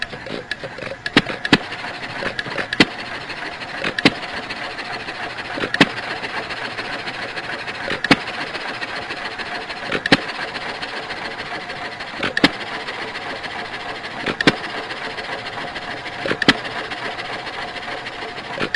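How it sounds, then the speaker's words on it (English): A steady mechanical engine hum runs at one unchanging speed, with regular, evenly spaced knocks repeating every couple of seconds throughout. "our virtual engine only runs well at 1 speed and would sound something like this"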